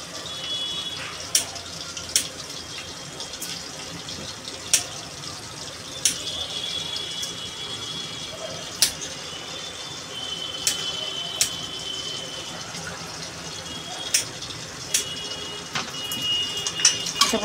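Tap water runs steadily over fish and potato pieces being rinsed in a home kitchen sink, a soft continuous splash broken by sharp little clinks and knocks of the pieces and a bowl.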